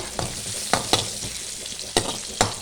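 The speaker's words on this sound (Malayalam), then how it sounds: "ഇതിലേക്ക് ചുമന്നുള്ളിയും കൂടെ ഇട്ടാണ് കടു വറുക്കുന്നത്" Mustard seeds and red shallots crackle in hot oil in a pan, a close steady sizzle punctuated by several sharp pops and spatula clicks, with no voices.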